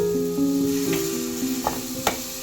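Chopped curry leaves and coriander go into a pan of chavalikai palya, a North Karnataka bean stir-fry with tamarind, which keeps a steady close sizzle with a few soft stirring knocks.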